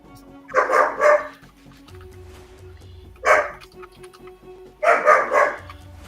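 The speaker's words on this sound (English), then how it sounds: "These dogs are having a conversation." Several dogs trade barks back and forth in three separate bursts of yapping, fairly close, with a low steady hum and quiet pauses between the exchanges.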